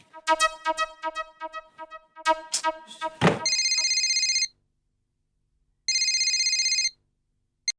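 A few knocks and clattering thumps, then an old-style telephone bell rings in two loud bursts separated by a short silence.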